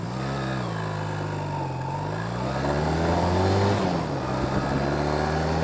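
A Honda Nighthawk motorcycle engine revs up through its range while riding, a steady buzzing drone that climbs and falls in pitch, loud and close with wind noise and no talk.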